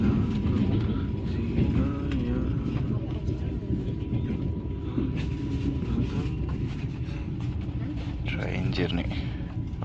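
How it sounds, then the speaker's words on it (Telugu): A train runs along rails on the Moscow to Murmansk line in Russia, giving a steady, close rumble with rattling, while people talk over it. "ట్రైన్ జర్నీ రష్యాలో"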